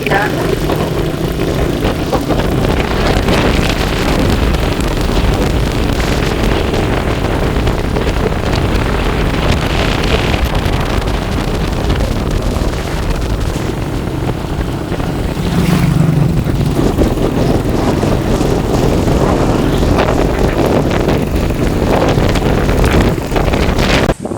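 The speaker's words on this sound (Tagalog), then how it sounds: "Lakas ang hangin dito sa amin, guys." Strong wind at a resort buffets the microphone in a steady, roaring rumble that lasts throughout, with faint gusty swells.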